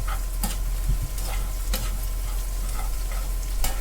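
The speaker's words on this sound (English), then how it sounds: "It's just frying up and doing its goodness." Flour and sausage fat sizzle steadily in a hot pan for gravy, with a low hum beneath and a few scraping clicks from stirring.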